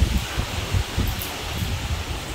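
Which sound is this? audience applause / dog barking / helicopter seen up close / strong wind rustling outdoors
strong wind rustling outdoors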